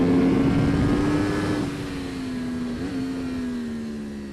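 A motorcycle at speed on the Thunderhill race track, a steady droning engine tone that sags slightly then holds, loud and close with wind noise and no talking.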